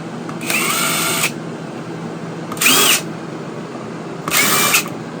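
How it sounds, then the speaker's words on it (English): A small power drill whirs in three short bursts, each under a second, close and loud, with quiet pauses between them, starting screw holes during an RV LED lighting install. "And then I got a little drill just to get things started."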